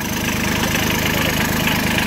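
A three-cylinder engine idles with a loud, even, chugging rumble that holds a steady rhythm throughout, with no speech.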